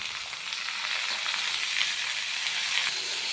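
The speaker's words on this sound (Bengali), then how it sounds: "দেখুন সবজিটা খুব ভালো করে ভাজা হয়ে গেছে" Potatoes, eggplant, green banana and other vegetables fry in a wok, a dense, steady sizzle and crackle of hot oil, close and continuous with no voices.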